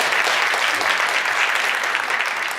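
Steady, dense applause from a congregation fills a church prayer meeting, a continuous wash of many hands clapping at close range for a couple of seconds, without speech.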